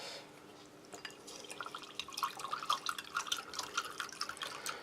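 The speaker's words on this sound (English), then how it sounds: "let's fill that up with 375 ml of water" Water being poured into a pouch of fine blackcurrant drink powder from a British Army 24-hour ration pack, a soft trickling fill that grows louder and splashier over several seconds, with no talking.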